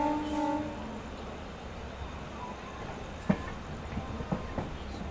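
A local train pulls into Pandit Deen Dayal Upadhyaya (DDU) Junction at Mughalsarai at night, a low steady rumble opening with a brief horn toot, then scattered metallic clanks and knocks from the wagons.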